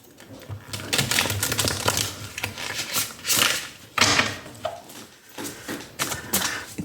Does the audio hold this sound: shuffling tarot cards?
yes